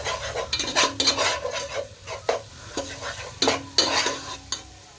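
Beef frying with spices in a pan sizzles steadily while a utensil stirs and scrapes in sharp, repeated strokes, close and clear with no talk.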